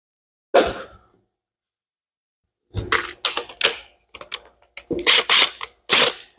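Socket ratchet working on the clutch cover bolts of a Yamaha IT175K motorcycle, one short burst of clicking, a pause, then several rapid ratcheting strokes in quick succession, close and loud.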